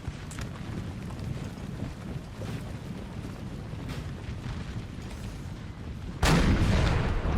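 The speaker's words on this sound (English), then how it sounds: "Ignore the artillery and push forward." Cannon fire rumbles steadily from a large Napoleonic-era battle in the strategy game Napoleon: Total War, with dull booms blending into a continuous roar that swells suddenly louder near the end.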